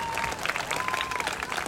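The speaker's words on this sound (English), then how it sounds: "Round of applause." A brief burst of crowd applause breaks out at an outdoor neighborhood block party, with scattered claps and a steady tone running underneath.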